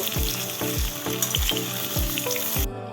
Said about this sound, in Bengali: পটলগুলো গরম তেলে দিয়ে দিয়েছি। এবার কিছুক্ষণ সময় উল্টে পাল্টে হালকা ব্রাউন কালার করে পটলগুলোকে ভেজে নেব।